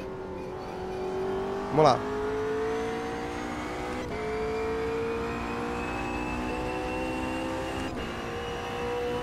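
Race car engine in the Automobilista 2 simulator on a Brazilian circuit, droning steadily at high revs, rising in pitch through upshifts with a few brief shift breaks, while someone speaks briefly over it.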